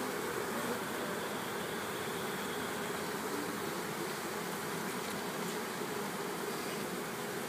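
Steady, soft honeybee buzzing around an outdoor hive started from a nucleus colony, a continuous low hum with no talking, holding level for several seconds.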